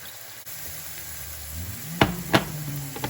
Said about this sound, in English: 3-color bell peppers and some onions and what's left of some minced garlic, sauteing in some extra virgin olive oil